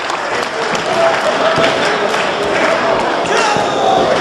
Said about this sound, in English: E.Y.F.B.O. getting the crowd behind them.